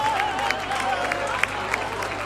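An audience applauds at a live stage show, a dense, continuous wash of clapping with a few sharper individual claps standing out, while a voice speaks over it.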